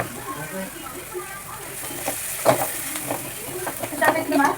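Curry leaves crackle and sizzle in hot oil, a steady frying hiss with pops growing busier toward the end.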